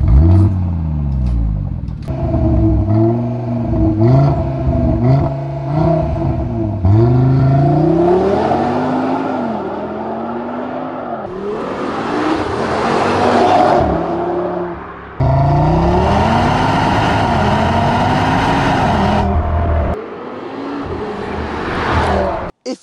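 An Audi RS3 Stage 2 tuned to 500 hp with a Milltek exhaust revs hard through repeated climbing and falling sweeps, loud and close, with brief lulls between pulls and a sharp cutoff at the end.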